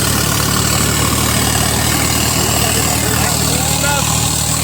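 A Swaraj 855 4x4 turbo tractor engine pulls in low-range third gear across a maize field, giving off a loud, steady, continuous drone with a low throbbing hum that holds for the whole stretch.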